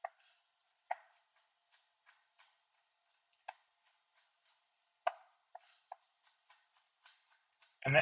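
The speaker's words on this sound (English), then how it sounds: "Same again, I'll just chop those up" A knife chops peanuts roughly on a board, sparse sharp close taps scattered irregularly with quiet gaps between, a few louder knocks standing out, ending in a brief voice.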